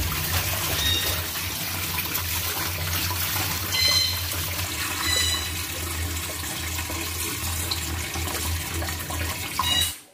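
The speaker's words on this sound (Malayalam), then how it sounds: "അപ്പൊ ഇനി നമുക്കിത് കഴുകാം." Black rice being washed in water, a steady loud rush of running water with continuous splashing and sloshing throughout, no voices.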